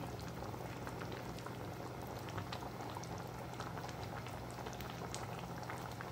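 Cauliflower curry with mint and garam masala simmering gently on low heat, a continuous quiet bubbling and fine popping that holds evenly throughout.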